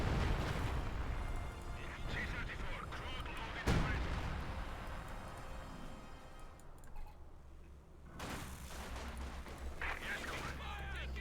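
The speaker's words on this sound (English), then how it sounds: "Sturm Panzer bombarding, super close to the ace level." Sturm Panzer artillery bombardment in Company of Heroes 2, with a sharp nearby blast about a third of the way in among dense rumbling battle noise and scattered gunfire, then renewed clatter after a brief lull.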